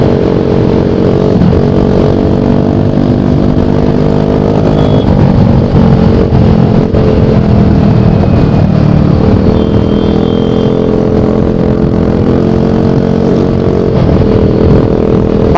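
A modified scooter engine drones steadily on a long ride home, loud and close with constant wind rush and rattling and no noticeable talk.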